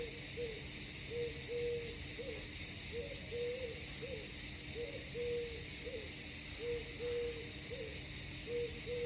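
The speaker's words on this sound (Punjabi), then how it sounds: "ਮੈਂ ਚੁੱਪ ਕਰਦਾ ਆਵਾਜ਼ ਸੁਣੋ ਪੰਛੀਆਂ ਦੀ" Soft repeated hooting calls from a bird sound at an even pace on an Italian morning, over a constant hiss of background noise, somewhat distant.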